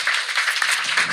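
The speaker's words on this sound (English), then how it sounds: "The applause rarely happens in my living room" Live audience at a comedy podcast taping at EW Popfest breaks into a short, close burst of steady clapping.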